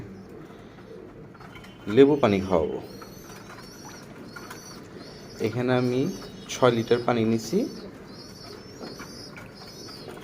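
Pigeons coo in soft, throaty rolling calls in a hot pigeon loft, with several separate bouts close by, while someone speaks between and over them.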